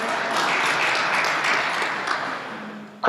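An audience applauds steadily for about three seconds, a dense wash of clapping from a crowd at a broadcasting clinic event. It ends in a brief sharp knock.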